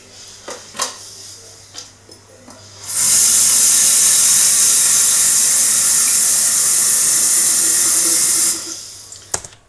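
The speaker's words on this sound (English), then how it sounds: "my clip of the kettle being filled up" Kettle filled from a tap: a few quiet clinks, then several seconds of loud, steady rushing water before the flow cuts off and a final clink.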